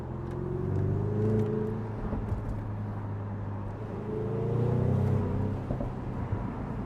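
A Jaguar F-Type in sport mode idles along at low speed, its exhaust droning and swelling in two gentle surges, with a few faint pops and crackles scattered over the steady rumble.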